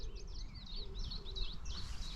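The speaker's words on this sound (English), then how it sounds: "bird song." Small birds on a rural Scottish pilgrim trail sing in quick, thin chirps and warbles at moderate distance over a low background rumble.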